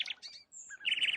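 A sparrow in an animated folk tale chirps in several quick, bright bursts with short pauses between them. The chirps are close and clear, and no one speaks over them.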